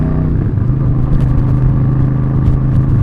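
A Royal Enfield Super Meteor 650 motorcycle on a test ride gives off a steady, loud low engine rumble, with its drone holding even from start to finish and no talk over it.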